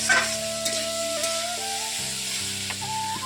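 Spices with turmeric, salt and chili powder frying and being stirred in a pan, a steady sizzle with scraping stir strokes, close and continuous, no talk.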